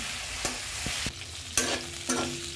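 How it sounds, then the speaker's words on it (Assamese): Cauliflower pieces frying in oil in a wok, with a steady sizzle broken by several sharp clatters of stirring or pieces dropping in, close and fairly quiet with no talking. "এতিয়া দিছোঁ কেৰাহীত ফুলকবি কেইডোখৰ।"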